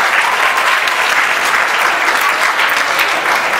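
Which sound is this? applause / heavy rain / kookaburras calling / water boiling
applause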